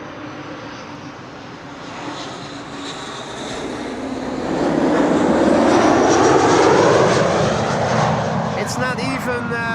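An Embraer 190 airliner operated for KLM passes at Amsterdam Schiphol Airport with a steady, loud engine roar that swells and peaks midway. A voice talks over the aircraft noise.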